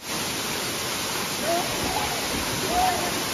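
Nhavankond waterfall at Talwa, Devgad, gives a steady, dense roar of falling water that stays constant throughout, with faint brief tones rising above it.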